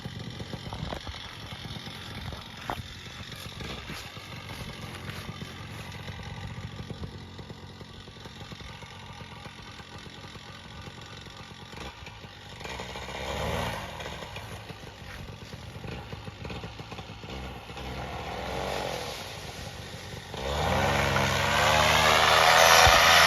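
A Moster 185 paramotor engine drones steadily with a buzzing two-stroke tone, swelling now and then, before it roars up to full throttle near the end as the machine takes off.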